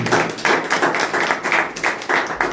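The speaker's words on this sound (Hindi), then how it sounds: "एक अच्छा ताली बजाएं प्रभु के लिए।" Worshippers at a Hindi-language Christian service clap for the Lord in a steady rhythmic beat, each strong clap about half a second apart, close and fairly loud, with no talking over it.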